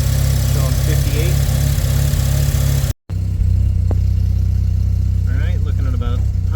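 A turbo Mazda RX-7 engine idles steadily with a low, even rumble, briefly cut off midway, while someone talks over it.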